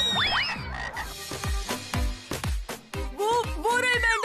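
Cartoon frogs in an animated episode croak in a regular series of deep, punchy croaks about every half second, with squeaky rising and falling whistle-like calls near the start and end.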